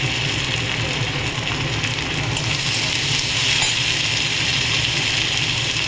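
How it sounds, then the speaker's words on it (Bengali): Ginger paste frying in a pan for a vetki fish curry, giving a steady close hiss and sizzle of hot oil that stays loud and even throughout. "আদা বাটা দিয়ে দেবো একটু। এটাও ভালো করে ভাজবো।"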